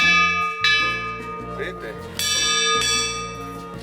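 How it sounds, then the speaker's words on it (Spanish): A hand bell at a village near Angel Falls, Venezuela, is rung to call people together, giving bright ringing strokes with lingering overtones, loud and close, while someone talks over it. "Esta es la campana de aquí para llamar a la gente, entonces se toca así."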